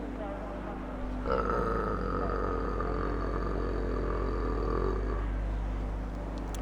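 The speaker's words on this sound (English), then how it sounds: "that was a big burp" A person lets out a big, long burp close to the microphone. It starts abruptly and drags on for several seconds over a steady low background hum.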